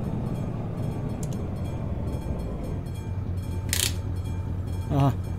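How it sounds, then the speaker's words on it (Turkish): A train rumbles past nearby with a continuous rolling clatter of wagons, brief hiss-like bursts standing out, and people talking over it. "Aa, tren geçiyor."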